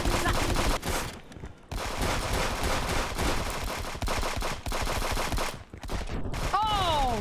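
A turret in the multiplayer shooter Friends vs Friends fires rapid automatic bursts, broken by short pauses, with loud, close gunfire and a brief voice near the end.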